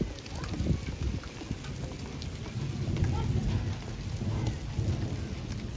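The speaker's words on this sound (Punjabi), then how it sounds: "ਇੱਧਰ ਪੈ ਰਹੀ ਆ ਬਾਰਿਸ਼" Rain falls on a village during a thunderstorm while the sun is out nearby. A steady, close patter of rain runs throughout under low, rolling rumbles of thunder.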